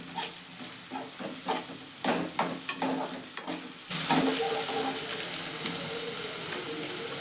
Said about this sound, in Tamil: வெண்டைக்காய் நல்லா புரிஞ்சிருச்சு.